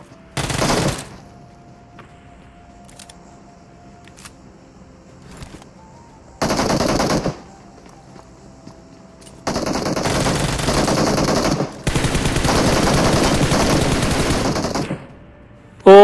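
Automatic gunfire in PUBG Mobile, with several loud bursts of rapid shots separated by quiet gaps and one long sustained spray near the end, close and dominant with no talk.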